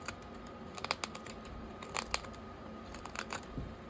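A knife carving the snout of a small wooden frog, short crisp cuts and scraping strokes arriving in irregular clusters, close and fairly quiet.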